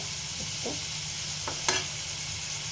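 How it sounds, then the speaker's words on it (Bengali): Spice paste (masala) for a soybean and chhola dal dish is stir-fried in a pan with a steel spoon, giving a soft, steady sizzle and a few brief scraping knocks. "এরপরে আমি মশলাটা কষবো।"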